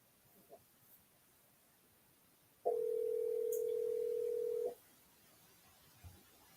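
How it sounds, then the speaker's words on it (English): A steady, continuous telephone dial tone sounds for about two seconds while placing a call, clear but fairly quiet over a soft background hiss, with no talk. "Let's call George and he can participate from the phone."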